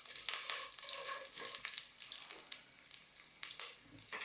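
Fresh curry leaves hitting hot oil crackle and sizzle loudly for an Indian chicken and mushroom curry, a dense, bright spitting hiss with sharp pops scattered throughout, close and steady.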